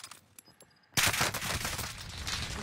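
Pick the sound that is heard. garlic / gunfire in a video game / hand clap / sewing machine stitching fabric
gunfire in a video game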